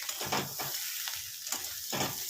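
Uncooked pasta and chicken are stirred in a hot, sizzling pan for a soupy pasta, making several rough scraping sweeps over a quieter frying hiss, close and without talk.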